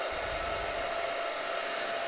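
Several fans on a homemade wind simulator run together at full speed, wired straight to a battery, giving a loud, steady, unbroken whoosh with no voices over it.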